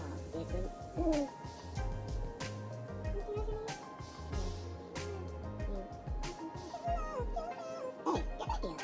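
Dog whimpering, yipping and barking in short bursts at home, mixed with people talking over it throughout.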